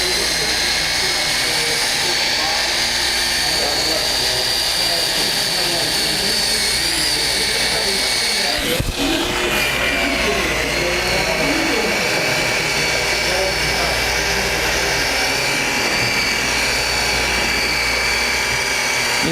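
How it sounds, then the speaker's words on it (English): A Flex polisher locked at 600 RPM buffs the paint of a 1957 Chevy, a loud continuous motor whir and pad drone that holds steady throughout, with a brief dip midway. "what's cool about these flex polishers is I'm going to lock that in on the one setting. That's 600 RPM"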